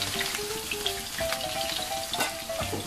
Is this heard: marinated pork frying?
yes